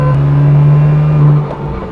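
BMW M2 Competition with about 510 bhp on a race track, a loud steady engine drone from inside the car that eases off toward the end, no talk.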